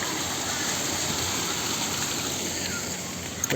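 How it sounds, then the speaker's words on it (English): Small, miniature waterfalls in a water park lagoon give a steady, close rush of splashing water. It is a continuous hiss with no distinct pauses. "There's little miniature waterfalls along this side too,"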